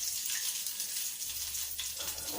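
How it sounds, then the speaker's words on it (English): Steady hissing sizzle of cheesy potato cutlets frying in hot oil until golden brown, continuous and fairly quiet, with faint crackles and no talking. "You should fry them until they are golden brown"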